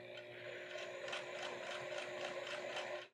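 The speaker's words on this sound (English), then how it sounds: "I'm going to top stitch it from the top here" A sewing machine top stitching the lining of a pair of jeans, giving a steady, fast mechanical whir with rhythmic needle ticks, close and fairly quiet, that runs evenly and then stops.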